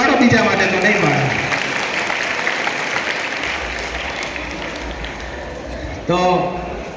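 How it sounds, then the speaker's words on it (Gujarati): An audience at a Republic Day school celebration applauds in steady clapping that gradually fades, with a voice speaking over it and a brief new burst of noise near the end. "જોરદાર તાળીઓ પોતાના માટે પાડો"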